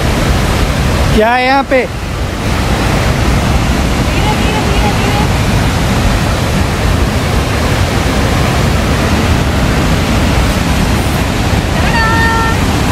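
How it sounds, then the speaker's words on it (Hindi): Nairn Falls, a waterfall in a British Columbia provincial park, roars as a steady broadband rush throughout, loud and continuous, with a brief spoken exclamation near the start. "ये है रियल वाटरफॉल।"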